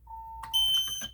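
A talking smoke alarm under test emits a steady mid-pitched tone, then a loud, shrill piercing alarm blast that holds briefly, close and alone.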